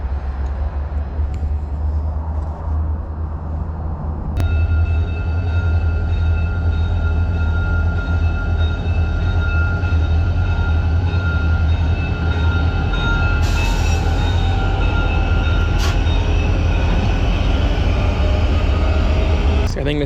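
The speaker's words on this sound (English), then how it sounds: "I think this is the passenger train" Passenger train rolling past at close range in Quesnel, a steady, loud rumble of wheels and cars with a whining tone and occasional clanks, under intermittent talk.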